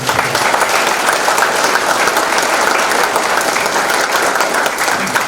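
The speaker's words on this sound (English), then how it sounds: "One more huge round of applause." Sustained, dense audience applause for hall of fame inductees fills the space steadily from start to finish, loud and even with no talk over it.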